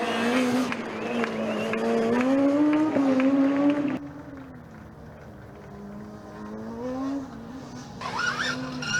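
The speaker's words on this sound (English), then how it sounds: "I can clearly hear the Zurich car approaching" A high-pitched electric motor whine rises and falls as a Formula Student electric race car approaches and passes during an endurance event, loud and near, with a brief drop and surge in pitch.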